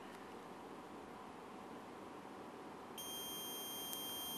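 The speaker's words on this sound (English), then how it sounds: "We turn up the gain knob slowly and wait until the beeping starts." A Biomove 3000 stroke recovery device starts a steady electronic beep tone partway through, clear and continuous over a constant background hiss.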